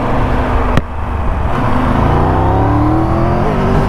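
A Triumph Tiger 1200 motorcycle engine accelerating on a test ride, a loud, close, steady engine roar that rises in pitch as it revs up, with wind rush over it.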